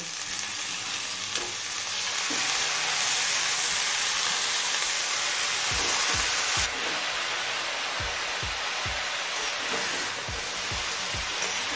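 Eggplant frying in a pan for a methi greens dish, a loud, steady sizzle that runs throughout, with a few soft low knocks of stirring near the end.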